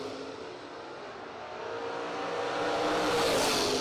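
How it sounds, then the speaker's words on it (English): Drag race at the American Door Slammer Nationals, a 1968 Camaro against a Chevelle: a fairly distant engine roar rising steadily in pitch and loudness as the cars accelerate, with no voices. "Corey Gallitti, McCarty Auto Parts 68 Camaro coming against the Trapeze Chevelle"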